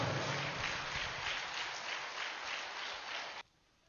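A large audience claps loudly and steadily for Patri sir at a spiritual gathering's speech. The dense applause holds for a few seconds and then cuts off abruptly.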